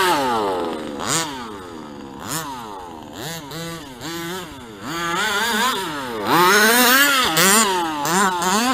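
A 5th scale Associated truggy RC car with a stock 30.5 King gas engine revs hard and repeatedly, its buzzy two-stroke note climbing and dropping in quick bursts as it accelerates and passes nearby.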